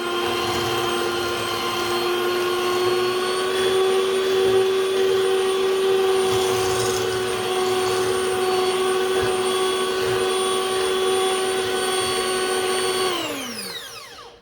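Steady high motor whine of an electric mixer stirring white sugar into melted brownie batter, running loud and constant for about thirteen seconds before spinning down at the end.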